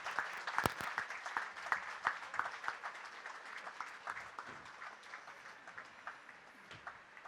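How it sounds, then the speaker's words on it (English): An audience at the Dehradun Community Literature Festival claps for two speakers. The dense, crisp applause is strongest at first, then thins and fades over several seconds. "Can we have a big round of applause for both our speakers?"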